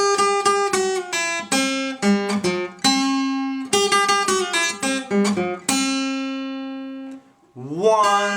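Delta blues guitar, a plucked acoustic pattern of picked bass notes and chords in steady rhythm, played alone and close, with a pause and a final strum near the end.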